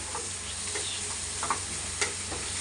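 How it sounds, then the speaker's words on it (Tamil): Chili powder, Kashmiri chili powder and chicken masala sautéing in a pan for egg podimas, a soft continuous sizzle with a few light spatula taps and scrapes, fairly quiet and without voices. "கொஞ்சமாக மிளகாத்தூள், காஷ்மீர் மிளகாத்தூள், சிக்கன் மசாலா கொஞ்சம் போட்டுருக்கேன். இப்போ வதக்கலாம்."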